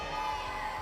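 Event crowd cheering and shouting in reply to the hosts at a CEL Season 4 gathering, a dense sustained roar lasting under a second.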